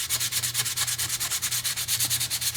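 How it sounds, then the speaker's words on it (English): Steady rhythmic sanding of thick putty on a model ship hull, rapid back-and-forth rasping strokes, close and continuous with no talk. "so you want to sand that away"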